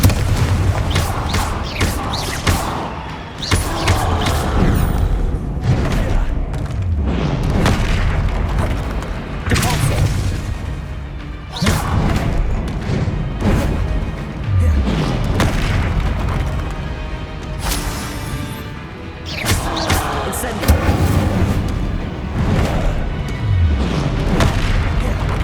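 Repeated booming blasts from the Confringo spell in Hogwarts Legacy on PS5, loud explosive bursts arriving every few seconds amid constant combat noise, with a voice calling out at times.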